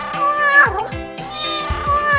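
A cat meows repeatedly at close range, a few drawn-out, wavering cries in quick succession, with low background thumps beneath.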